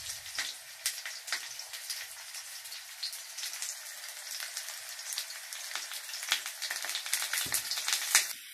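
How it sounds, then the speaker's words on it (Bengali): Potatoes frying in a pan until reddish brown, a steady close crackling sizzle with dense popping spatters that continues throughout, nothing else heard. "আলুতে লাল লাল করে ভেজে নিই।"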